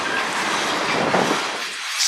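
Rail cars roll by on the Strathroy Subdivision, a close, loud wash of wheel and track noise that holds steady throughout, with no voices.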